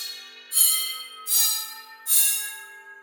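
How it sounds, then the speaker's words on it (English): A gong patch played on a Ludwig Total Percussion Pad electronic drum pad, three struck hits about three quarters of a second apart, each ringing bright and metallic and sustaining under the next, with no talking. "And that's hitting gong right there."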